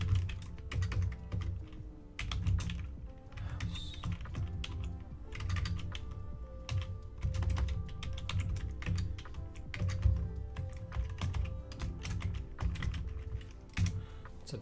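Fingers type steadily on a computer keyboard, a close, busy clatter of key presses in uneven bursts with short pauses, and no voices.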